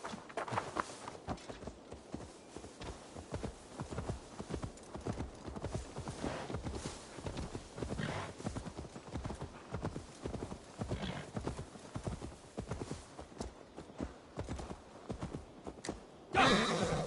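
A horse in the video game Assassin's Creed Valhalla clip-clops along at a steady walking rhythm, fairly faint, with a brief whinny and a louder rush of movement near the end.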